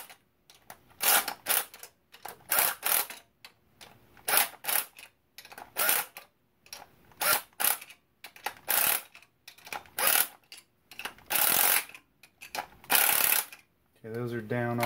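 Fasteners on a BMW S52 engine are tightened with a ratchet in repeated short bursts of clicking, each run followed by a pause. The sound is close and loud, with a brief lower noise at the very end.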